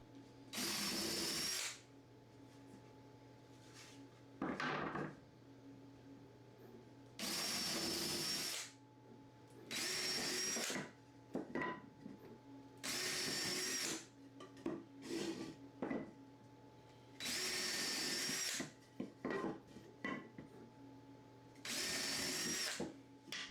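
An electric drill whirs in repeated bursts of a couple of seconds each while drilling holes in wood, about eight in all, with quiet pauses and small clatters of handling between them.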